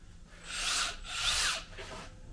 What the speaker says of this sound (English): this tiny belt sander because it's really good for this sort of thing